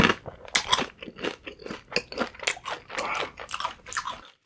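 Close-up mukbang chewing of a Shake Shack burger and fries, with crisp crunchy bites and wet chewing in a steady run of repeated bursts, loud and intimate with no talking.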